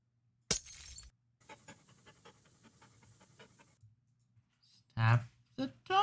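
Dog panting in the Milo and the Magpies video game, a steady rhythmic series of quick huffs lasting a few seconds at moderate level, bracketed by a sharp burst before it and short bits of talk afterward.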